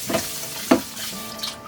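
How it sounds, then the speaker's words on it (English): Running water and splashing as a mixing bowl is rinsed in a kitchen sink between batches of melted chocolate, a few short sloshing bursts over a steady wet hiss. "If you notice, I'm washing my bowl"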